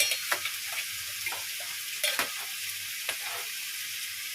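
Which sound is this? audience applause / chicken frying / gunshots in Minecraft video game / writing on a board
chicken frying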